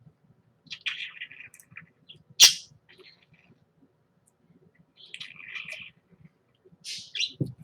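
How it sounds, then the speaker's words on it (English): A pet budgie chirps in short bursts, faint and close by in a quiet room, with sharp tweets and a sudden loud squawk between brief gaps of near silence. "you get the privilege of hearing a budgie chirp"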